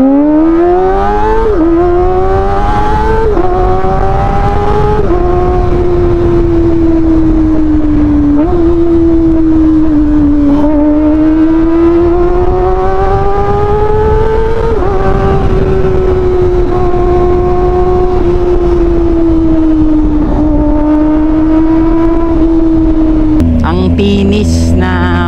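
Kawasaki Ninja ZX-25R motorcycle engine and exhaust revving steadily with rising and falling pitch, loud and close throughout, ending with a brief sharper burst.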